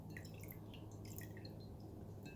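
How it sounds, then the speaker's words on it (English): Sodium hypochlorite bleach pours steadily into a container of diet soda with a continuous liquid trickle and light dripping splashes throughout, close and fairly quiet. "I'll pour a little bit more in."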